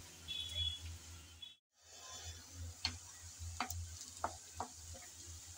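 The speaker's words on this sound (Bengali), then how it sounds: "এখন হালকা ব্রাউন কালার করে নেড়েচেড়ে ভেজে নেব।" Chopped onions sizzle and crackle in hot oil as they are stirred in a pan for a Bengali chicken gizzard curry, with steady frying hiss and a few sharp clicks of the spatula against the pan, close by with no talk.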